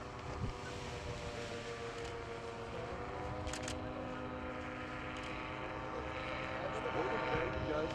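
An aircraft engine runs steadily throughout, a continuous drone with harmonic tones near a flag-flying event over Sakarya on 19 May, with people talking faintly underneath.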